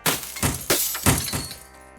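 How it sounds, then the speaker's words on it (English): Hammers smash a mobile phone, a quick series of four or five sharp, cracking impacts with a glassy, breaking edge, loud and close, trailing off at the end. "We all started smashing the teacher's phone with our hammers."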